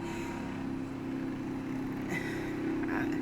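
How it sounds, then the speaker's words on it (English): Steady low roar of distant highway traffic, a continuous rumble with faint hiss, no voices. "excuse the background noise, I live next to a freeway."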